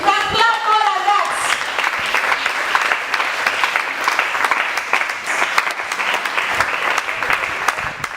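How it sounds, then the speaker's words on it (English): A church congregation claps loudly and steadily for several seconds after a preacher's urging during a deliverance service, with a voice briefly heard at the start before the dense applause takes over. "You can clap more than that"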